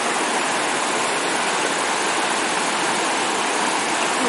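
Loud, continuous roar of rushing stream water at a trail water crossing in the San Gabriel Mountains, broad and unchanging, heard up close with no voices.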